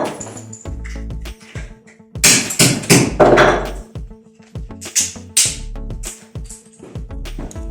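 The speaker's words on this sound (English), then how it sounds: "I will just hit that with a hammer on my table and remove all that" A hammer striking a mobile phone charger on a tabletop to crack its plastic casing, a series of sharp, loud, close thuds and knocks with irregular spacing and brief rattles between blows.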